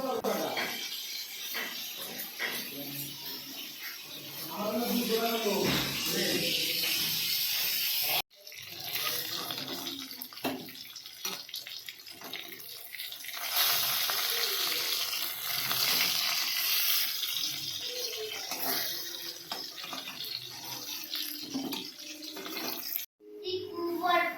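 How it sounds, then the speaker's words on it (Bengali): Fish frying in a hot pan on a home stove while rice cooks, giving a steady close hiss and sizzle with watery crackle, broken by two brief silences. "এখন হচ্ছে আর মাছটা ভাজছি"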